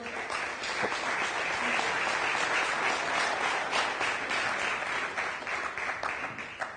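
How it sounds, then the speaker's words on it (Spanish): Audience applause welcoming speakers onto the stage at an agricultural business talk, a dense steady wash of clapping from a sizeable crowd that holds for several seconds without pause. "les pido un aplauso para recibirlos"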